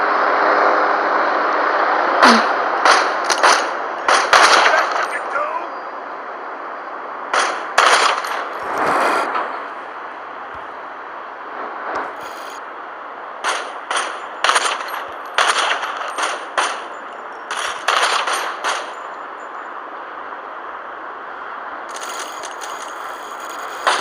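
Gunfire in the mobile game Gangstar Vegas, repeated short bursts of automatic shots over a constant engine-like drone, loud and close, with no speech.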